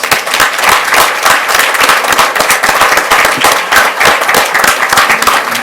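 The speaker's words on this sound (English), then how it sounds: "I'd like to give him a round of applause" A roomful of people at a school district special board meeting applauds loudly and continuously, a thick, even burst of clapping with no voices on top.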